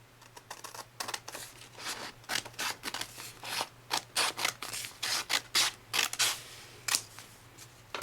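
Scissors cut through excess paper while a square is trimmed for an origami rose, with about a dozen close, crisp snipping strokes in an even rhythm over a low background hum.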